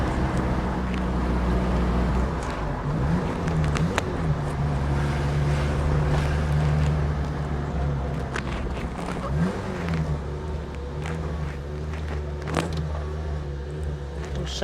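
A Japanese import Daihatsu 4WD, parked unused for six years, runs while driving around a village, its engine a steady close drone with slight rises and dips in revs.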